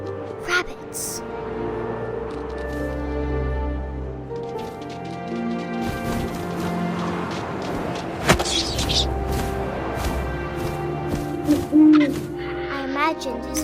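Owl hooting inside the game What Remains of Edith Finch, layered with wind and ambient music under a narrating voice, with a few louder thumps near the end.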